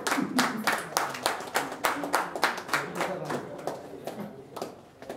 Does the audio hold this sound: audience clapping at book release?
yes